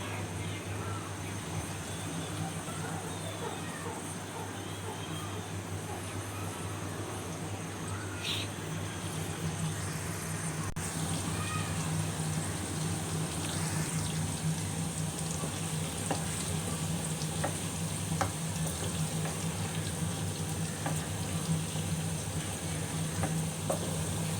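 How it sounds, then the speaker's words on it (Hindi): Bitter gourd (karela) pieces frying in hot oil, giving a steady, continuous sizzle and crackle from close by that stays even throughout, with faint bird calls in the distance and no talking. "और करेले जो हैं अब हम तल लेंगे।"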